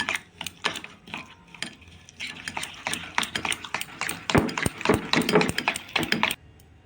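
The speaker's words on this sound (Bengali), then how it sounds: "আমি চিনিটাকে ভালো করে গুলে নেব তেলের সাথে।" A spoon beating sugar into oil in a bowl for a rosogolla cake batter, heard as rapid, irregular close clinks, taps and scrapes against the bowl, with no one talking.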